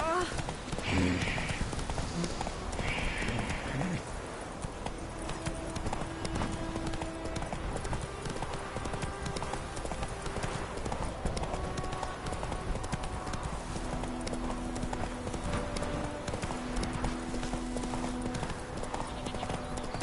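Rapid clip-clop of horse hooves galloping in The Witcher 3, a steady close drumming rhythm that runs throughout, layered with game ambience and music tones.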